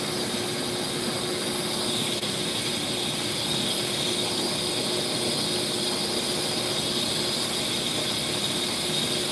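A brake lathe in an auto repair shop turns a brake rotor, giving a steady, loud, unbroken mechanical whir and grinding hiss from start to finish.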